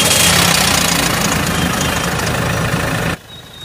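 A Mahindra XUV 500 engine, freshly fitted with a new head gasket, runs loud and steady at close range with a rough, knocking idle, then cuts off sharply just before the end.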